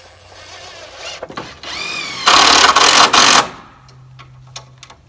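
A power drill driving 3.5-inch wood screws into wall studs while framing a small shed, with a rising whine and then a loud sustained burst of about a second as the screw bites, followed by quieter handling clicks.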